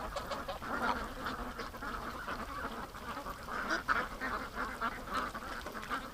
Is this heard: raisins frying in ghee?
no